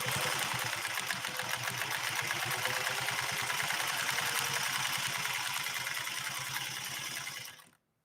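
A Singer 401A sewing machine runs steadily at moderate speed, stitching a combination pattern with a dense, rapid needle chatter and motor hum that holds for about seven seconds before stopping abruptly.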